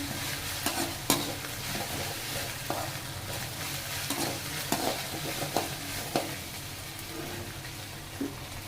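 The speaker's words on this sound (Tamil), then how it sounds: "இஞ்சி பூண்டு பேஸ்ட் போட்டால் அப்படியே வதங்கின அப்புறம்" Onions with ginger garlic paste sauté in a pan for a capsicum egg gravy, giving a steady sizzle under repeated stirring scrapes and clinks, with no talking.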